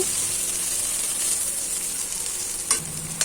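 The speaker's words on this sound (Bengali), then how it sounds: "আমি অল্প অল্প করে কয়েক ব্যাচে মাছগুলো ভেজে নিচ্ছি" Pabda fish fry in hot oil in small batches, a loud, steady crackling sizzle heard close up, with a couple of sharp utensil clinks near the end.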